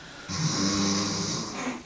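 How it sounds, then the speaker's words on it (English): A man snoring loudly, one long rasping inhaled snore that starts abruptly and holds for over a second before trailing off, close and alone. "Fuck me, he snores loud."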